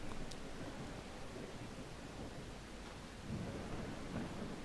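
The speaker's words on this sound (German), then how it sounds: "Das regnet hier wie aus Eimern." Heavy rain pours steadily in the video game ICO, a dense continuous hiss with low rumbling thunder beneath, loud and unbroken with no voices.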